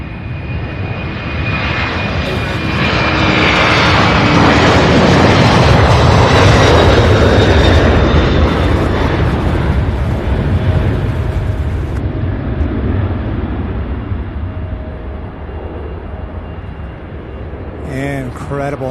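An MD-11 jet takes off at Louisville International Airport with a loud, rising engine roar that swells, peaks midway and slowly fades as it climbs away, with faint talk near the end.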